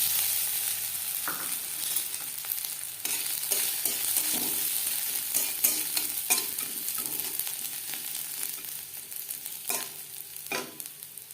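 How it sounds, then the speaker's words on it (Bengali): Grated coconut frying in a pan: a soft, even sizzle broken by scraping stir strokes and light taps, close and fairly quiet, with no talking. "সবার প্রথমে নারকেল ভেজে নেব"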